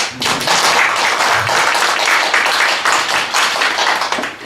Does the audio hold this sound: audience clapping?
yes